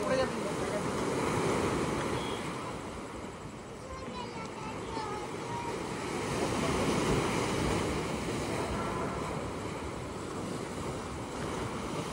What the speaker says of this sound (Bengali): আর এদিকে সুন্দর মন মাতানো ঢেউ সমুদ্রের